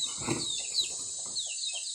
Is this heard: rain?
no